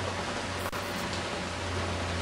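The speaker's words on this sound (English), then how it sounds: "enjoying the rain. It was pouring and thunder at 4 o'clock in the morning." Steady rain pours at a Club Med resort on Bora Bora in the early morning, a dense even hiss close by with no voices.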